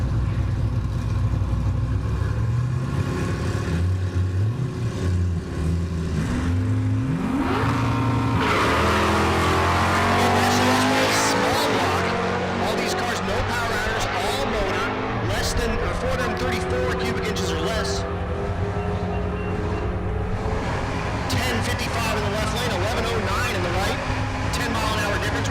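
Drag cars, a Fox Mustang and an X-Body "Disco" Nova, roar at a dragstrip in Great Bend, Kansas, engines revving and sweeping up in pitch as they launch and pull away, with a commentator talking over them.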